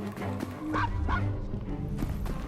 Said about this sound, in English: Yeah, we gotta go get that dog.